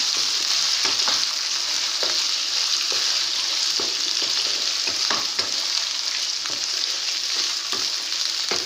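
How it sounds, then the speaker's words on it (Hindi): Steady loud sizzling and crackling of meat (gosht) frying with ginger-garlic paste in a hot pan, with occasional scraping and stirring clatters, no voices. "इसको अच्छे से गोश्त के साथ इसको भी फ्राई करेंगे हम।"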